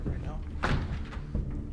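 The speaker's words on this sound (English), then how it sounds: "Lock the door for sure right now." A door is pushed shut with a single dull thud, followed moments later by a softer click as it is locked, with a voice talking just before.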